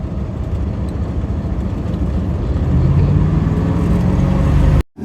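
A 1971 Chevrolet Highboy pickup truck engine with a rebuilt carburetor runs steadily at idle with a loud, low rumble, then cuts out abruptly near the end.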